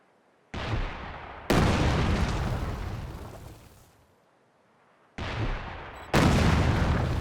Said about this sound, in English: Target will be plastered by the barrage.